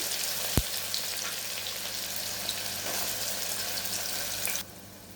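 Sliced onions and chopped garlic sizzle steadily in hot oil while being sautéed for a chhole tempering, a loud, close hiss with an occasional clink, and the sound drops away abruptly near the end.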